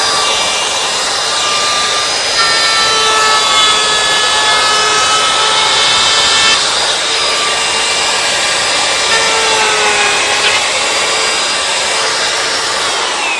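A Bosch flush trimmer cutting laminate along the back side of a panel, a loud, continuous, close high-pitched whine with gliding tones and no pauses.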